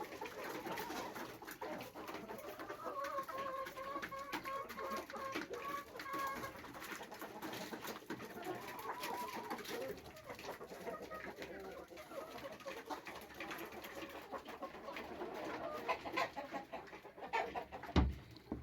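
Hens and pullets in a barn cluck and murmur steadily throughout, a busy flock close by with soft overlapping calls and occasional louder squawks near the end.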